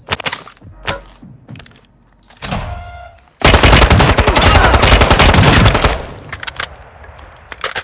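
Sustained machine gun fire from Call of Duty: Modern Warfare II, loud and dense, preceded by scattered single shots and cracks, then tapering into sporadic bursts.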